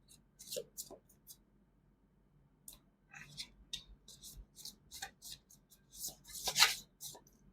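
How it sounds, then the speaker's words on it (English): Tarot cards being shuffled by hand, quiet close riffles and soft slaps in irregular bursts, a faint voice murmuring in between. "I'll shuffle them again."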